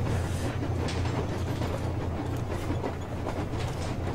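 A train riding on rails in the Metro Exodus video game rumbles continuously and loudly with a dense, noisy roar and faint rhythmic clatter, steady throughout with no talk.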